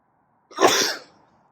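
A single sharp human sneeze bursts out close and clear, about half a second long, then fades into near silence.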